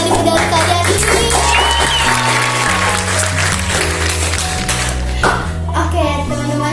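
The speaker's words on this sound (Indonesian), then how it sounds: "Coba dong kita tepuk tangan yang meriah buat medali-medali kalian di sini." Lively applause for primary-school silat students and their medals, clapping running under loud music and children's voices throughout.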